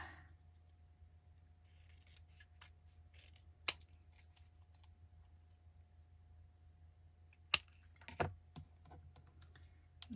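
Scissors snip through a paper plate in a quiet room, faint soft cuts and rustles broken by a few sharper clicks of the blades closing.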